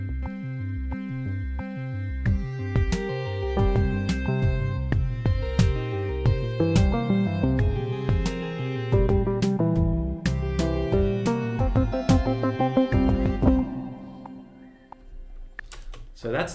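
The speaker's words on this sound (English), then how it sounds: "The finished track sounds like this in the DAW." The finished music track for a game's second level plays back in the Reaper DAW: a busy electronic piece with a pulsing bass pattern, sharp tick-like percussion and layered tones. It stays loud throughout and thins out near the end.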